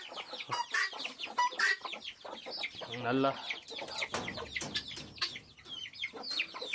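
Chickens and a rooster forage outdoors in a farm pen, clucking faintly beneath steady conversational talk.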